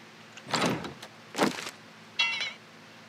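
Door mechanisms in a video game at night, three separate mechanical bursts: a broad grinding slide, a second similar slide, then a higher whirring motion, each about half a second, fairly close with quiet between.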